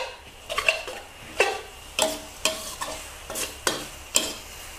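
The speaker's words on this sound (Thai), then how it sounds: "ค่อยๆผัดเพื่อให้วุ้นเส้นมันมีความนิ่ม" Glass noodles with minced pork and basil being stir-fried in a pan, a spatula scraping and clanking against the metal in a steady rhythm of about one stroke every half second, close and alone over a soft sizzle.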